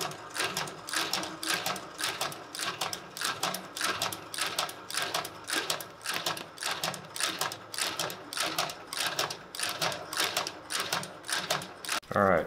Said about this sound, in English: then we will outsole stitch the outsole onto this